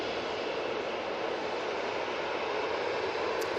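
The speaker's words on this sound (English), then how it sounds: "Next out, we have this TUI 737-800. This is off to Antalya." A TUI Boeing 737-800 airliner departs Manchester Airport, its engines producing a steady, broad roar that holds evenly from start to finish, fairly distant and heard without any voices.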